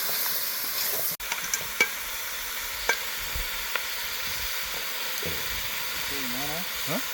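Chicken gravy stirred and frying in a pan, a steady sizzling hiss with occasional clinks of a spoon against the pan and brief voices near the end.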